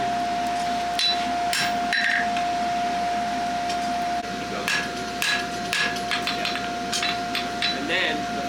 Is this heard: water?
no